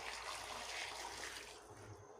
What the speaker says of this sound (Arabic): ومنضيف إله المية المغلية.